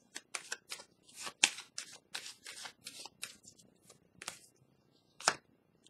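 Tarot cards shuffled by hand in quick, crisp riffling bursts up close, with a final card snapped out and drawn after a short pause, and no voices.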